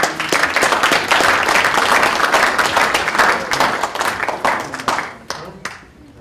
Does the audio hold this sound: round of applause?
yes